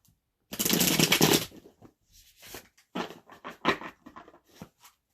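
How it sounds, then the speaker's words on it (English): A dense burst of card shuffling riffles for about a second, followed by scattered softer shuffles and taps of cards, close and fairly loud. "Let's give it one more shuffle."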